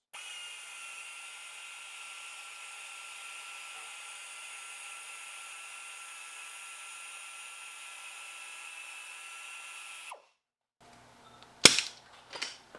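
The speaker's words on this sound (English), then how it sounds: "I'm going to use a wire brush on a drill just to clean the rust scale out of the inside of this" A drill spins a wire brush on a Nissan Pathfinder lower ball joint socket to scour out rust scale. It gives a steady, sustained whir for about ten seconds, then stops, and a few sharp clanks follow.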